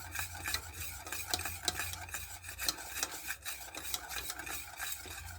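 Thickening cream of chicken soup stirred in a pot on a homestead kitchen stove, a steady scraping and swishing of the spoon in quick repeated strokes, soft and close, with no voices.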